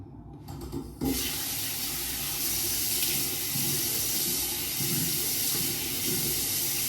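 A tap runs into a sink during teeth brushing and face washing, a steady, close rush of water that starts abruptly and continues unbroken with faint splashes.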